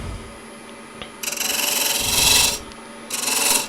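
A woodturning tool cuts into a wooden yarn bowl spinning on a lathe, hollowing out the center: two loud, rasping bursts of shaving, the first long and rising, the second shorter, separated by a brief lull.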